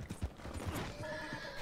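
A horse in Red Dead Redemption 2 whinnies loudly over a few clopping hoofbeats, close and clear, with no talking.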